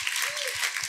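A congregation at a church sermon claps in a brief burst, the hand claps landing in a steady, even rhythm and blending into a dense wash.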